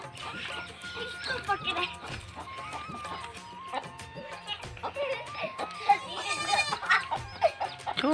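Small chicks chirp in high, thin bursts while being caught by hand, with the peeps growing denser toward the end, under frequent overlapping talk from several people.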